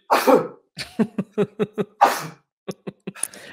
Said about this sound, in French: Il atchoum en même temps de parler